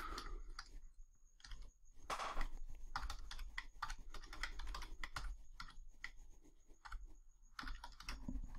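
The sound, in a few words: typing on a computer keyboard to edit text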